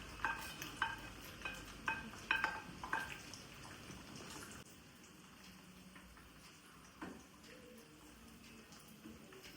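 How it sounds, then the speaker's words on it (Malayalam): Raisins and cashew nuts going into hot ghee for an Onam payasam, a few soft clinks and stirring scrapes over a low, quiet sizzle that settles into a faint steady hiss. "നമ്മുടെ കിസ്മിസ് കാഷ്യൂ നട്ട്സ് ഒക്കെ ആഡ് ചെയ്ത് കൊടുക്കുകയാണ്."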